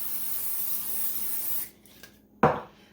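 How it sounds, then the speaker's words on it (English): Crisco cooking spray hisses steadily onto an air fryer basket for about a second and a half, close and fairly loud, then stops; a short clunk of the can or basket follows. "I'm going to just spray it down with a little of this Crisco."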